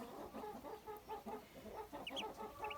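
Muscovy ducklings cheep and peep in quick repeated bursts, close by and fairly faint, with a few higher chirps toward the end.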